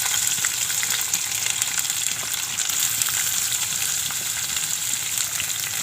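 Onion added to hot oil already holding mustard seeds, cumin and garlic, a loud continuous close-up sizzle and crackle that runs steadily throughout.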